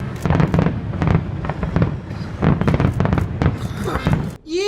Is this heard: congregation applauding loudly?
no